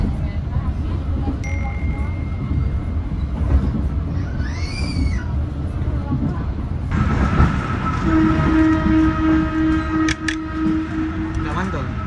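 A passenger train pulls into Payakabung station: loud rumbling wheels and rail clatter from onboard, a brief horn-like tone midway, then squealing brake tones and sustained metallic screeching as it slows, with people talking over it.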